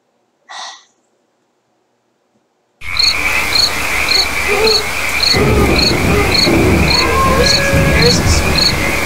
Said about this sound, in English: the sound of crickets,